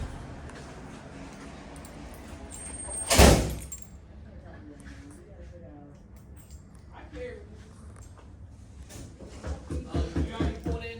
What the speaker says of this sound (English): Let's open these doors and get half the load off.